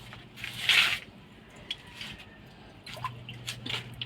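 Water poured into soy sauce with kalamansi while cooking tuyo, a short trickling splash followed by soft wet drips and liquid sounds in a quiet kitchen, fairly close.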